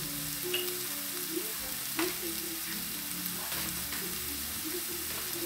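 An onion cooks on a stovetop burner for a Ramadan savoury pastry filling, giving a continuous close sizzle with soft scattered pops and light stirring scrapes.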